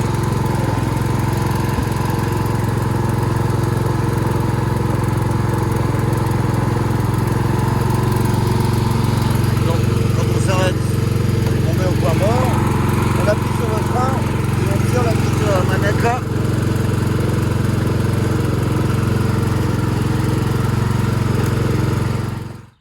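A Jonsered lawn mower engine runs steadily and loudly close by for the whole stretch, with a steady hum. Faint scattered noises sit in the middle, and the sound cuts off abruptly at the end.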